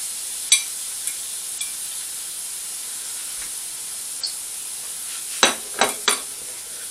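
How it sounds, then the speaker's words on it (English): Bacon frying over low heat in a little vegetable oil makes a soft, even sizzle, broken by a few sharp pops and crackles near the end. "fry the bacon in a little bit of vegetable oil"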